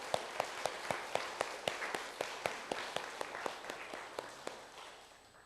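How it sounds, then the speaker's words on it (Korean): A church congregation claps in a steady, evenly spaced rhythm to welcome a speaker, sharp unified beats over a softer wash of hands, gradually easing off toward the end. "일어나시면 잠깐 박수로 환영하겠습니다."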